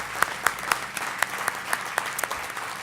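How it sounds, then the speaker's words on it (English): An audience applauds the builders and architects of a new wellness center building, a steady wash of clapping with distinct individual claps standing out rhythmically over a brief few seconds. "I need you all to clap for them."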